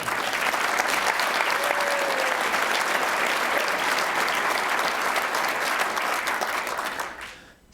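Sustained, full audience applause fills a conference room at a Law Society annual conference at Georgetown University, steady and dense throughout before quickly tapering off at the very end.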